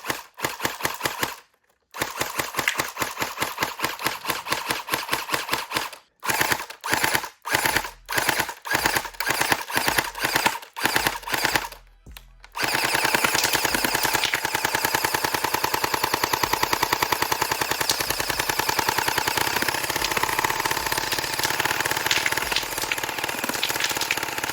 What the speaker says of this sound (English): I'm going to shoot glow-in-the-dark ammo with this blaster